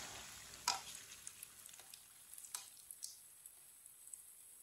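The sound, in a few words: chicken kabab patties frying in a pan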